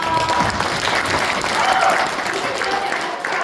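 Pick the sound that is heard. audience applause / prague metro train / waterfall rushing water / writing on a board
audience applause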